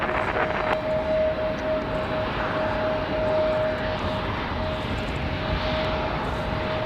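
An airplane at Raleigh Durham airport roars steadily throughout, a broad, constant engine rush with a faint whine on top, fairly loud, with no voices.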